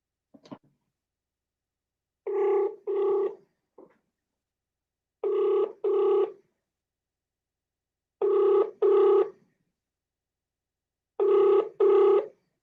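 A telephone rings on a call being placed, with four evenly spaced double-burst rings separated by silent gaps, preceded by a few short dialing beeps, clear and close.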